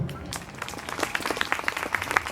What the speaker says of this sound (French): je pense qu'on peut t'applaudir bien fort